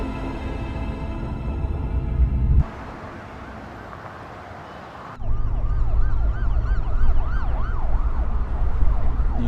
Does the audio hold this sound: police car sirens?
yes